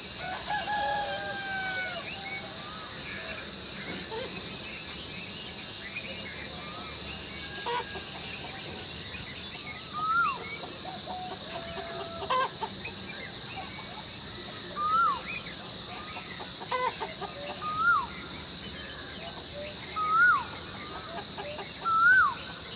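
Birds and chickens around a farmhouse call in an outdoor chorus: a rooster crows several times and hens cluck, while small birds chirp in rising bursts over a steady insect drone.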